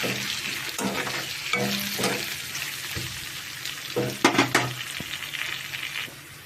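Onion pieces fry in a pan for a bottle gourd curry, with a steady sizzle broken by stirring scrapes and a few sharp clinks of the spoon against the pan.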